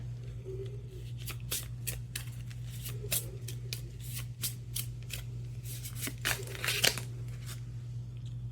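Tarot cards being shuffled by hand, repeated crisp riffles and slaps arriving in irregular bursts over a steady low hum, close and fairly quiet, no voice.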